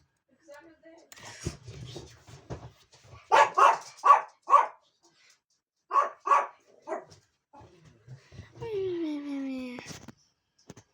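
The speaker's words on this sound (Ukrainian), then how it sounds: "Чую, собаки на вулиці гавкають." Several sharp barks ring out in quick clusters, moderately close, with short pauses between, followed by a rising whine at the end.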